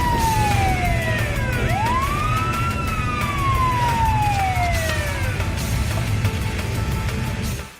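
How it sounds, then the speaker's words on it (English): A police car siren wails loudly and continuously, its pitch sweeping up and down, with steady traffic noise underneath. "Police car."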